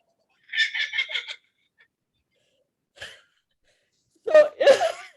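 An Australian kookaburra gives its laughing call: a quick run of repeated cackling notes, a pause with a single faint note, then a louder burst of rising, raucous laughter near the end.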